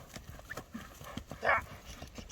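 A Karabair horse being walked gives a steady, close run of clip-clopping hoof strikes, with brief voices and light background noise.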